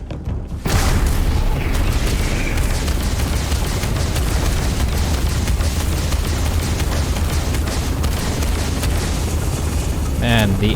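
Grenade blast in the Starfield game, a heavy roaring boom that starts after a brief quiet moment and rumbles on loudly and steadily with combat noise, ending with a short bit of speech-like sound.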